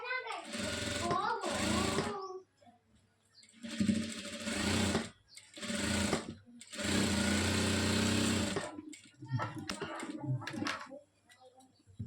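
A sewing machine stitches a churidar top in several loud runs of rapid mechanical whirring, each lasting one to a few seconds and separated by short pauses, with faint sounds between runs.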